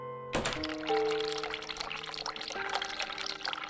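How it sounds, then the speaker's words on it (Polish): Warm water from a sink tap in The Cat Lady game, starting abruptly and then pouring steadily into the basin, with a ringing tonal hum over the splashing. "Odkręć ciepłą wodę"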